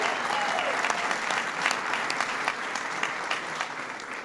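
An audience at an LGBT Pride reception bursts into sustained applause for Roberta Achtenberg, a dense, loud wash of many hands clapping steadily and fading slightly toward the end.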